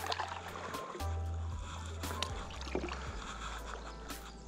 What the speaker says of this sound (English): and you're just paddling